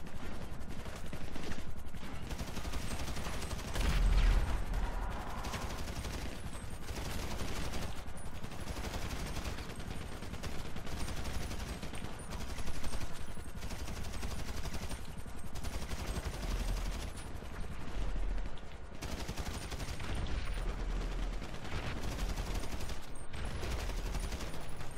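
Sustained gunfire in the online mode of GTA V, a dense, continuous crackle of shots and bursts running throughout, fairly loud, with little speech.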